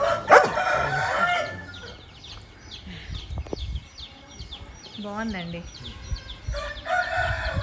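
Fighting-breed roosters crow at a breeding farm, one loud and close at the start and another later, with hens clucking around them and someone briefly speaking.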